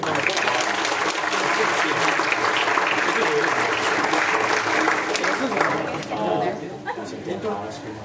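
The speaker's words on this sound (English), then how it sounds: "let's have a round of applause" Dense, steady applause from a crowd of university students and guests welcoming a Japanese club's Soran Bushi dance performance, loud and sustained before thinning out toward the end, with scattered voices underneath.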